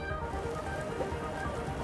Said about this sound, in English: I'll keep the water flowing in the meantime.